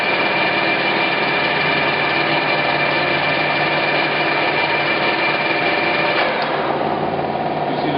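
A used Clausing Colchester 17 x 80 engine lathe, model 1780 with a three-jaw chuck, runs with a steady, loud mechanical whine and hum that shifts near the end as the brake stops the chuck.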